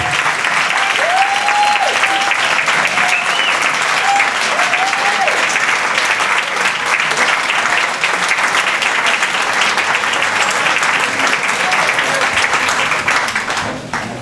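An audience gives sustained, loud applause for Congressman Sam Johnson at a judge's retirement event. The clapping from a large crowd is dense and continuous, with a few brief voices calling out over it before it begins to fade at the end.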